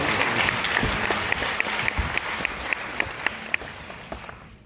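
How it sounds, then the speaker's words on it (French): At the Cannes Film Festival, an audience applauds the director and translator, brisk dense clapping that gradually thins, individual claps standing out near the end before it fades out. "On peut applaudir."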